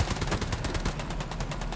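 Rapid, steady bursts of machine gun fire in the World War II shooter Hell Let Loose, a fast rhythmic stream of sharp reports that runs unbroken and fairly loud, with no voices over it.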